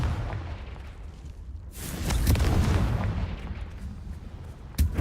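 Explosive Confringo spell blasts from the Hogwarts Legacy video game: a loud booming burst rolling on for a few seconds, with a sharp second crack near the end, no talk.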